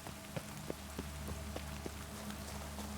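Steady rain falls inside a cave in the video game The Witcher 3, a constant dense patter of drops with soft, scattered drips tapping through it, no voices.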